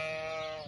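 A lamb gives one short, faint bleat at a livestock market in Kara-Balta, Kyrgyzstan, where young sheep are offered for sale.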